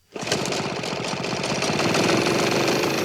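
A video game jetpack engine sputters to life and keeps running, a loud, steady, rapid mechanical rattle with no talking.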